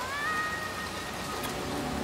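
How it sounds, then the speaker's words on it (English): Steady rain falls in the video game Little Nightmares 2, a constant close hiss that fills the whole clip, with faint tonal game sounds drifting underneath and no talking. "Jeez, it's raining."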